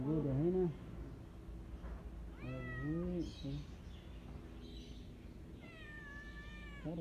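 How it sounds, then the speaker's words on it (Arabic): Several cats meow in repeated, rising-and-falling calls, close and fairly loud, over a steady background hum with some talk around them. "القطط الموجودة هنا"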